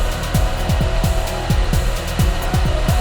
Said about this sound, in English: Turn on engine and let the coolant circulate.